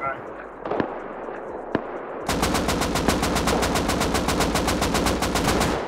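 Gunfire in the online survival game Rust during a raid defense: a few isolated shots, then a fast, rhythmic automatic burst of evenly spaced loud cracks, with voices talking partway through.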